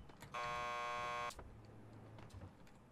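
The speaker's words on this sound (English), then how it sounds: "Just press the buzzer by the door. Petersburg will buzz you in." In the Max Payne 2 game, someone presses a door buzzer and it gives one harsh, loud electric buzz lasting about a second, then quiet room noise follows.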